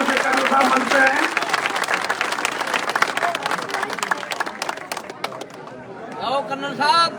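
Dense clapping from a crowd at a BJP political gathering in a village fills the air, gradually thinning out as chatter and a voice come through near the end.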